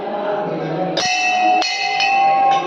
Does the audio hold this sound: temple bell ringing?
yes